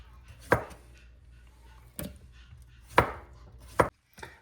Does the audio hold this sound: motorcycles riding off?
no